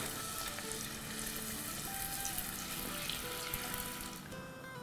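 Puri dough rounds fry in hot oil while oil is spooned over them, producing a soft, continuous bubbling sizzle with light splashy texture and no voices.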